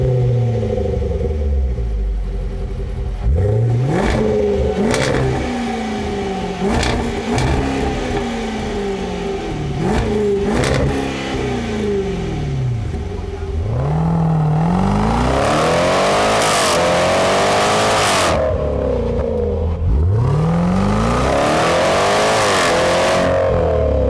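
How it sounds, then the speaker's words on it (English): Range Rover Velar SVAutobiography Dynamic V8 engine revved hard in a series of sharp blips, each rising and falling quickly, then two longer, louder revs climbing to a high roar near the end, close and with no talking. "Let's fire up that V8 so you guys can hear what it sounds like real quick."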